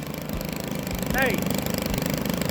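A STIHL FS91R weedeater (string trimmer) engine runs steadily with a rapid mechanical rumble close by, and a brief rising whine cuts through midway.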